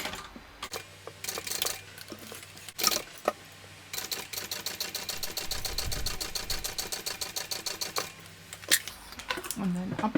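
Sewing machine stitching the seam of a fabric shoulder bag, running in a fast steady rhythmic whir between short stops and restarts, close and clear, with light handling clatter.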